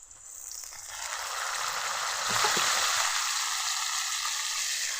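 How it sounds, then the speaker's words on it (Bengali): Onions and ginger paste fry in a pan with a steady close sizzle that swells slightly and holds, with a few faint stirring knocks and no talk. "আদা বাটা দিয়ে কিছুক্ষণ ভেজে নেব"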